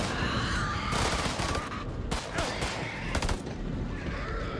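Gunfire in the video game House of Ashes comes as a few sharp bursts of rapid shots amid dense, noisy game ambience, loud and close, with a voice briefly audible.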